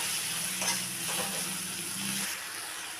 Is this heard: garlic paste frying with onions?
yes